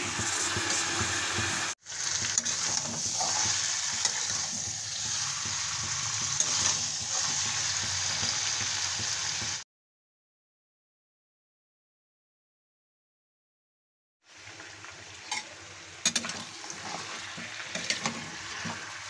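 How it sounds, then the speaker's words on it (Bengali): Chicken, potatoes and spices frying in a pan for a village-style chicken curry, a steady close hiss and sizzle with occasional stirring scrapes, broken by a long silent gap before resuming. "মশলা, চিকেন ভালোভাবে কষিয়ে নেব।"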